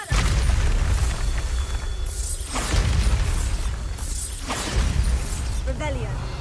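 Bombarda spell explosions in the video game Hogwarts Legacy, a series of loud booming blasts with shattering debris, repeated every couple of seconds over a dense, rumbling background.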